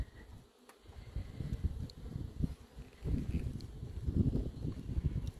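Honeybees buzz at a hive in a low, fluctuating hum close by, swelling and fading in waves with no voices.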